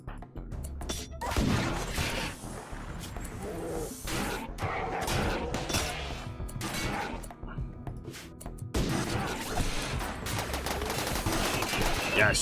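Rapid gunfire from colonists' weapons fights a Scyther mechanoid in RimWorld, with sustained bursts of shots and crashes running through most of the stretch.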